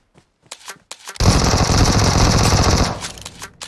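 Sustained automatic gunfire from the mobile battle royale game PUBG Mobile, a loud continuous burst lasting about two seconds after a few short sounds and a brief spoken word.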